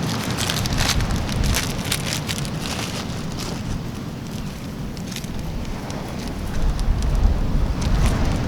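Steady wind gusts roar against the microphone throughout at the seaside, with broadband buffeting that swells louder near the end.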